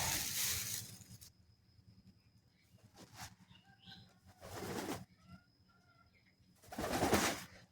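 Pigeons at a pigeon farm give soft, low coos that come and go between louder bursts of flapping wings, with quiet breaks in between.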